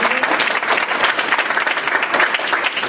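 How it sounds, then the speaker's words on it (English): Dense, lively round of applause from an audience at a GMO-free activist rally, many hands clapping continuously and fairly close. "So let's give her a round of applause."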